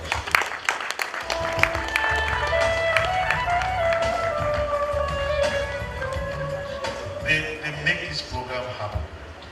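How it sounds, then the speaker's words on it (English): Applause from a conference audience at the launch of an investment cooperative fills the whole stretch as a steady, dense wash of clapping, with music and voices running over it. "Please give them a hand of applause."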